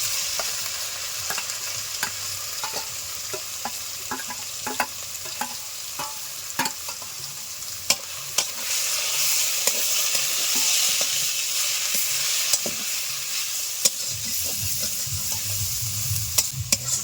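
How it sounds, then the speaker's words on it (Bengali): Grated carrots fry in oil for a winter carrot kachori filling, giving a steady close sizzle punctuated by regular spoon scrapes and taps against the pan as they are stirred. "গ্রেট করা গাজরগুলো আমরা এই তেলের মধ্যে দিয়ে দিলাম"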